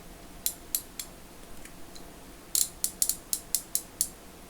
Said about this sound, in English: this is what it looks like when it's ratcheting from the inside